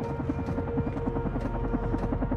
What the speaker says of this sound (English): Alright, helicopter.